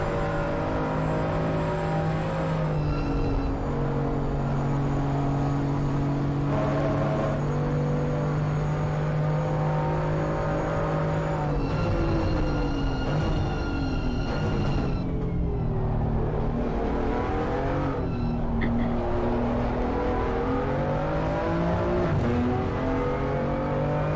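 An onboard race car engine in a racing game at Spa drones close and loud, rising and falling through upshifts and downshifts with steady revving and deceleration through the corners, with no voices over it.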